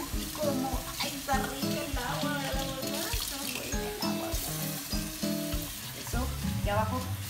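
Water splashes and pours in irregular bursts as Maja the dog is bathed by hand, close and busy throughout.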